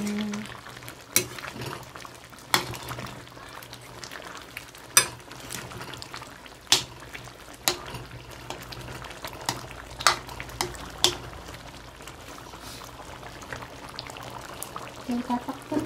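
Food simmering and bubbling in a covered pot on the stove, a steady soft boil with scattered clicks and light knocks of a lid or utensil, fairly close, with faint background hum.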